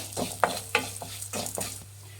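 Coriander seeds being stirred and dry-roasted in a pan for mango puliyogare spice powder, with a series of scraping, rattling stirs at an irregular rhythm over a low steady hum, close and moderately loud, no talking.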